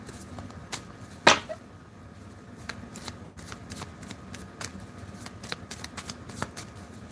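Playing cards are shuffled near the microphone ahead of a two-card spirit message pull, with riffling and quick flicking snaps, one louder riffle near the start followed by lighter intermittent card flicks.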